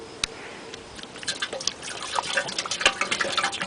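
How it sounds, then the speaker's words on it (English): Water pours and trickles into the cooling hopper of a 1934 International Harvester engine, an uneven run of drips, splashes and gurgles that grows busier toward the end, with no voices. "Pour water inside."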